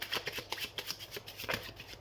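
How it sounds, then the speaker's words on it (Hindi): Tarot cards are shuffled by hand close up, a quick, rhythmic run of soft riffling flicks and taps, quiet and alone. "तो सबसे पहले हम कार्ड शफल कर लेते हैं।"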